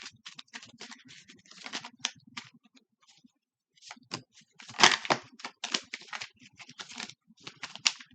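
Quick, dry flutters and clicks of tarot cards being shuffled in irregular bursts, with a short pause midway; close and fairly quiet.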